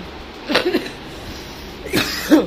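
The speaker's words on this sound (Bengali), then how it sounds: "আবার খুব কাশি হয়েছে" A person at home coughs in two short bursts, each a couple of quick harsh coughs, close and moderately loud against quiet room noise.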